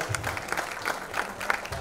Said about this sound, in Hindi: आप लोग जोरदार ताली बजाइए